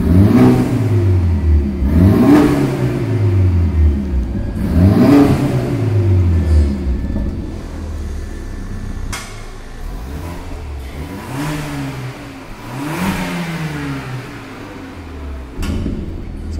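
A 2019 BMW 320 fitted with a custom downpipe and exhaust diffuser revs repeatedly, each throttle blip rising to a loud roar and falling back to idle, about six revs in a steady rhythm, close and alone.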